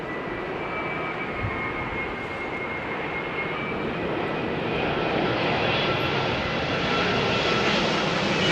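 A light aircraft engine hums steadily during a gusty crosswind landing approach, a close, continuous drone that shifts a little in tone as the throttle is eased back, with no talk over it.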